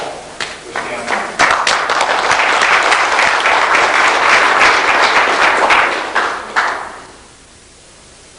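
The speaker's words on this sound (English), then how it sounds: "Please let's give a round of applause for Stanley." A conference audience in a Denver hotel gives inventor Stanley Meyer a welcoming round of applause. Scattered claps swell into full, steady clapping for several seconds and then fade out, leaving near quiet.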